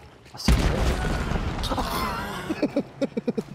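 Explosion in the first-person shooter game Hunt: Showdown, a sudden loud boom that rumbles and decays over a couple of seconds, followed by a short series of sharp pops.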